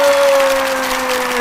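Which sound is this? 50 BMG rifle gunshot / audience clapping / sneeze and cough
audience clapping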